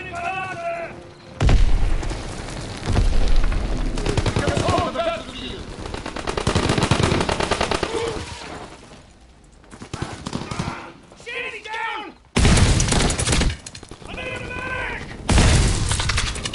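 In Call of Duty: WWII, a shotgun fires incendiary shells, heard as loud, heavy bursts of gunfire separated by quieter gaps, with someone talking over much of the action.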